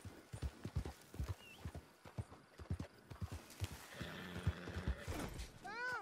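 A video game horse clip-clops along with irregular hoof thuds, then whinnies and neighs clearly near the end, fairly quiet overall with no talk over it.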